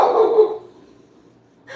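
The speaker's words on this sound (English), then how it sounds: "My phone made a noise, so she's gonna bark at it." A pet dog indoors in a home kitchen barks sharply in a short burst of loud barks at a phone notification, then falls quiet, with a faint chime at the end.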